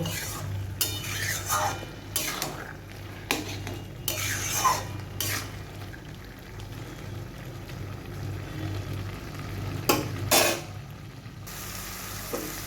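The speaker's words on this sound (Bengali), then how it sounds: "আমি এবারে গ্যাসের ফ্লেমটাকে হাইতে করে দিলাম। দিয়ে আমি এই যে জলটা বেরিয়েছে এই জলটাকে একটু শুকিয়ে নেব।" Bottle gourd cooked with egg in a pan over a high gas flame, a quiet steady sizzle broken by repeated scrapes and clinks of a spatula stirring against the pan, with no talk.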